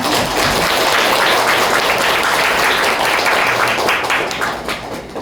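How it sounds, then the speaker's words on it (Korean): Loud, sustained audience applause after a guest speaks about meditation and service on a talk show about death and family loss, thick steady clapping filling the whole stretch and easing slightly at the end. "박수 한번 주세요"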